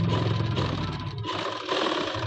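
Sewing machine stitching across a half band collar, a dense continuous whir that breaks off briefly just past the midpoint and then resumes, close and fairly loud.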